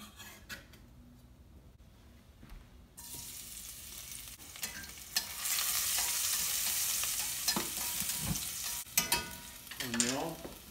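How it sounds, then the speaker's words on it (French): Onions and garlic frying in oil for a tomato sauce, a faint sizzle that swells into a louder steady hiss midway, with occasional stirring scrapes and clatters. "Mets les oignons à revenir avec l'ail."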